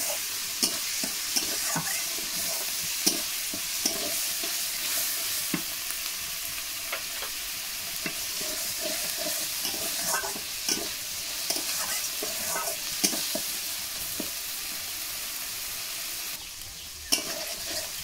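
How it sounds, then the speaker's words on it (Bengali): Onion, garlic and ginger paste fries with a steady sizzle in a pan, stirred throughout with repeated scraping strokes, close and moderately loud, with a small clatter near the end. "পেঁয়াজ রসুন আর আদা বাটা দিয়ে ভালো করে কষিয়ে নেব।"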